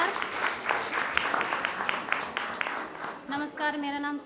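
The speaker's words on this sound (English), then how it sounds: "Please do give her a round warm applause." Applause from an audience, with scattered claps over a murmur of voices, fading as a voice begins speaking toward the end.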